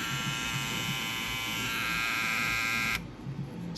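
A BaByliss FX3 hair clipper fitted with an aftermarket adapter runs with a steady, bright electric buzz, close and loud, its tone shifting slightly before cutting off near the end.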